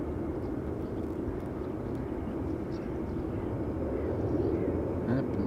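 A KLM Boeing 737-800 spooling up for takeoff on Schiphol's Polderbaan runway, a steady distant engine roar carried on an east wind, rising faintly toward the end, with light background voices.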